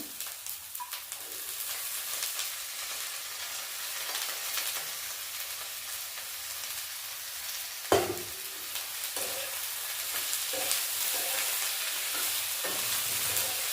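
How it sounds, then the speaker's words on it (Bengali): Shredded cabbage sizzles in a pan with already-fried potatoes, a steady broadband frying hiss with a sharp clatter near the middle and scattered utensil scrapes and stirring knocks afterward, no voices. "আলু ভেজে নিয়েছি, এবার বাঁধাকপিটা দিয়ে দেবো"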